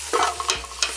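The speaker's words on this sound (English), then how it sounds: "sauteing" Garlic and onion sauté in a pan over high heat, a soft sizzle broken by a few quick scraping stirs, close and fairly quiet, with no talking.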